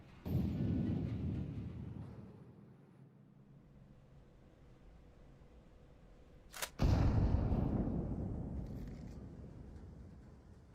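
A grenade blast in a Counter-Strike-style esports match: a sharp, loud crack near the middle, followed by a long rumbling decay, set among earlier muffled gameplay rumble.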